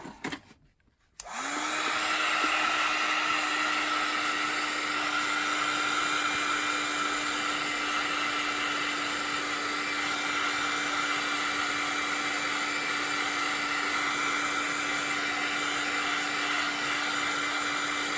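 A hair dryer runs steadily and loudly for most of the stretch, drying an embossed watercolor flower painting, with a steady whine over broad blowing air and a brief muffled fumble before it switches on.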